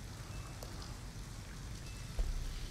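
Steady rain falls in the Detroit: Become Human video game, a soft even hiss pattering on surfaces close by, with a slight rise in the wash near the end and no voices.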